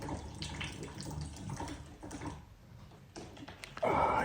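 Water running from a pipe during a plumbing repair, an irregular splashing gush with shifting intensity that swells louder near the end, close and without talk.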